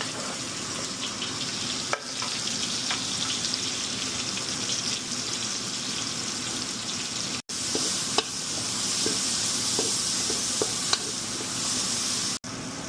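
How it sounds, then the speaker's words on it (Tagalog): Garlic and onion sautéing in a pan for a Filipino home-cooked dish, a steady close sizzle with occasional stirring scrapes and clicks running throughout, no talking. "Igigisa na po natin ang bawang at sibuyas."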